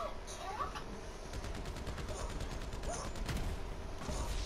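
Rapid gunfire in Grand Theft Auto, a steady rattle of shots with repeated sharp bursts running throughout at fairly close range, mixed with other game noise.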